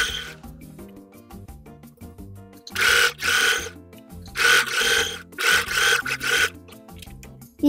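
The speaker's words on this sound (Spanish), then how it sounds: "voy a la máquina y vuelvo a coser con la misma puntada" A sewing machine stitching the seam of men's boxer shorts, several close, loud whirring bursts of rapid needle chatter separated by short pauses.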